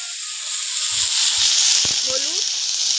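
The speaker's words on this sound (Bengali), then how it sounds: "এবার কাঁকড়াগুলো ভেজে নেবো।" Small crabs frying in hot oil give a steady, close sizzling hiss that runs throughout, with a few soft clinks and knocks from the pan partway through and a brief voice-like tone near the end.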